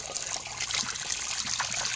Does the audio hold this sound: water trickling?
yes